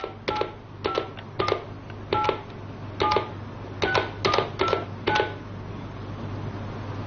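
Telephone keypad tones dial a number, with about eleven short, evenly spaced beeps over a steady line hum and no voices.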